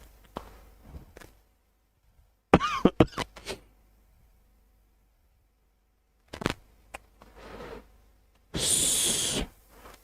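A man indoors during a botany lesson coughs and clears his throat in several short, close bursts separated by quiet stretches, ending with a longer breathy, hissing rasp.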